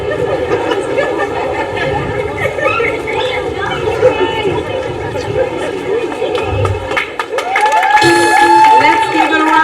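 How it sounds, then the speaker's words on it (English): A school audience of students and parents at an academy word parade breaks into applause and cheers, crowd noise and laughter swelling and growing louder toward the end, with voices mixed in. "Let's give it a round of applause for grades 5 and 6 and all the students of Genesis"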